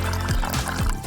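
Water pours in a brief, close burst with gurgling splashes, a few quick sloshing pulses over about a second.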